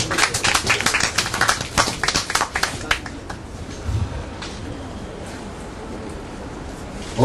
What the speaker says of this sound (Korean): 박수 한번 또 보내드리십시다.